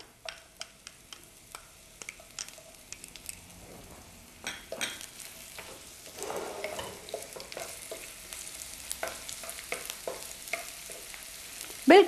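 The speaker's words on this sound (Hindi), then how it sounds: "यानी कि आप तकरीबन आप ये 2 चमचे ऑयल हमने डाला। उसके बाद हम ऑनियंस डालेंगे" Onions fry lightly in a little oil with a soft, uneven crackle, and a spoon scrapes and stirs now and then, the sizzle swelling slightly partway through and ending on a louder clatter.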